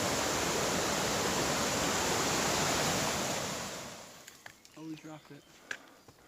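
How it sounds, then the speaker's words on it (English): A mountain creek at Baxter State Park rushes steadily as a broad, loud wash of water for about four seconds, then drops away, leaving faint rustles and a few quiet voices nearby. "wanted to look at the beautiful creek up here"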